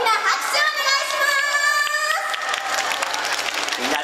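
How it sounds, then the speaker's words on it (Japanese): A crowd applauds a costumed hero stage show in a shopping mall while bright music with a sung melody plays over the clapping. The music fades partway through and the scattered clapping carries on beneath it. "かっこよかった茨城ガールたちに大きな拍手をお願いします"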